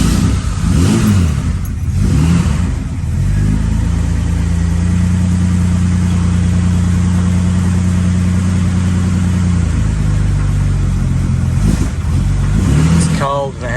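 A cold Valiant VJ Charger with a Holley carburettor and no choke starts up and settles into a loud, steady mid-pitched engine note before revving and dying away, close by, with voices talking around it.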